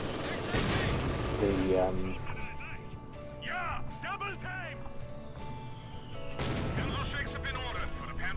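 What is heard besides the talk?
mortar fire in video game Company of Heroes 2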